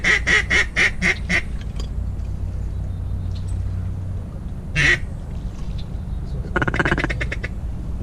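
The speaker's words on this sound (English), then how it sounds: "duck above us" Ducks quack overhead outdoors during a hunt, a rapid series of loud calls at the start, another burst midway and a fast run of quacks near the end, over steady background noise.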